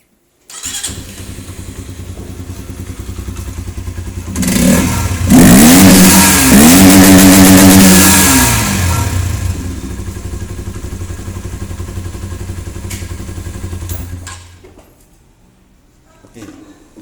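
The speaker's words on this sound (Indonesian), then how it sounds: "Kita geber ya." A motorcycle with a faulty ECM/ECU that blows thick black smoke idles loudly nearby, then is revved hard a couple of times before settling back to a steady idle and cutting off.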